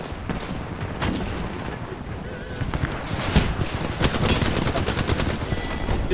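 Rapid bursts of video game gunfire in a team deathmatch crackle repeatedly over a steady windy background, growing denser toward the end, with no talking.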